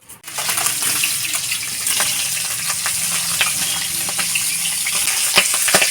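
Continuous crackling sizzle of live stinging catfish frying in a covered pan, steady and close, with occasional sharper pops and no voices.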